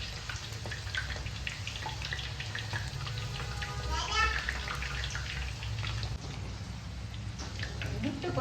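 Dough pieces frying two at a time in hot oil, a steady close crackle and sizzle running throughout under a low background hum, with a voice speaking over it now and then.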